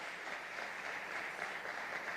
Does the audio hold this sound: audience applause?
yes